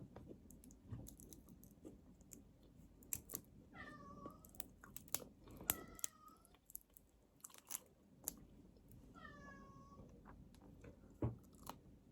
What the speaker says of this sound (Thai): เสียงแมว